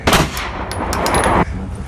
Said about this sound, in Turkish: Tek silah sesi duyuldu.